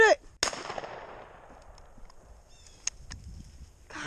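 A single sharp shotgun blast during a New Jersey bird hunt with a Vizsla, sounding outdoors and moderately near, followed by a decaying echo and quiet field ambience.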